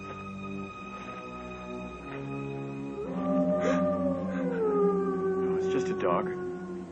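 A dog howls in the distance across desolate countryside near an old house, a long wavering cry rising and falling over a steady low hum for several seconds.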